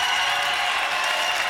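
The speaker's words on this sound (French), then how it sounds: "applaudissements de la foule" Crowd applause breaks out for a guest's arrival on a French TV variety show, a steady dense wash of clapping that fills the short stretch at a constant level, with no talking.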